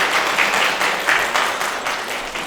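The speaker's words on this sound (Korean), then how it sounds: "다시 한 번 더 감사의 박수 부탁드립니다." An audience applauds at an education fair talk concert in Ulsan on high school credit system policy. The clapping is steady and full, holding at a fairly even level throughout without speech.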